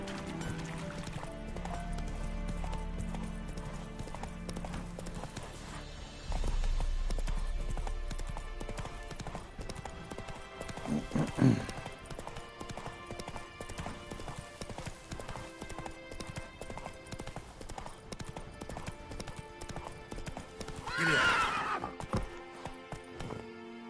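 In The Witcher 3: Wild Hunt, a steady, rhythmic clip-clop of horse hooves continues throughout, with a couple of brief whinnies rising above the trotting.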